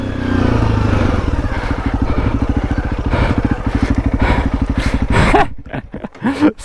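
A motorcycle, either a KTM 890 Adventure R or a Honda CRF 300 L, runs on a track with a steady pulsing engine drone close by, then the engine note drops and breaks up into a few uneven bursts near the end.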